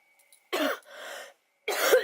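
Two harsh, close coughs, the first followed by a raspy throat-clearing breath, then a second cough after a short pause.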